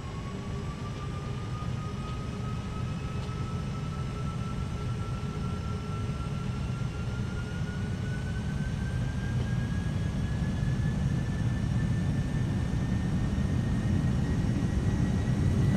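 PMDG 747-400 engines at takeoff power in a flight simulator, a steady broadband roar with a slowly rising turbine whine, constant and unbroken, with no voices.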